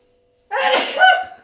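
A single loud, close sneeze bursting out after a moment of silence, with a sharp intake and forceful release.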